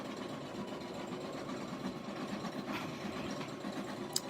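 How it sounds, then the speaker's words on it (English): An embroidery machine stitches an applique sports ball bag tag, giving a steady fast mechanical whir and patter at low level, continuous and alone, with a tiny click near the end. "we're just watching the machine stitch"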